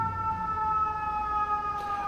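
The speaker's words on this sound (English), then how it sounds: "Sorry about the sirens." A steady electronic siren wails in the background, holding a constant pitch with a faint swell near the end.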